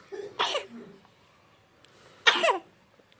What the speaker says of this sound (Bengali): ওরে বাবা রে কি কাশি হয়েছে রে